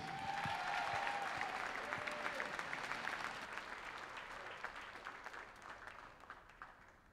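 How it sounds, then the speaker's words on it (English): Audience applause at the State of Downtown Fresno 2024 awards event, a broad wash of clapping from a crowd that gradually thins and fades over several seconds. "A big round of applause, please"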